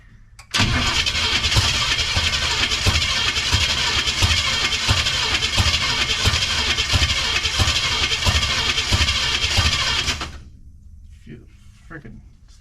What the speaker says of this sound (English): Freaking starter doesn't sound healthy, like it needs to be shimmed or something.